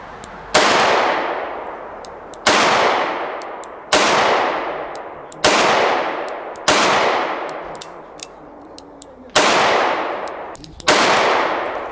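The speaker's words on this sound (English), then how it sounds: "I'm going to shoot 7 rounds, and we're going to shoot at the number 1 out there in our target" Seven loud double-action shots from a Smith & Wesson 686 Performance Center revolver at an outdoor range, each a sharp crack with a decaying tail, fired at a steady unhurried pace of about one and a half to two seconds apart.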